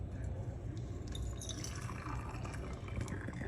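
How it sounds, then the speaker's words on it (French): Boiling water poured over tea in a lidded infusing vessel: a faint, continuous trickling fill with soft splashes, close up and quiet. "Et on va y verser de l'eau bouillante."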